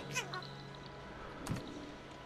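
An orange cat in the video game Stray gives a short, close meow near the start, followed by a quieter, brief vocal burst, set against low background ambience.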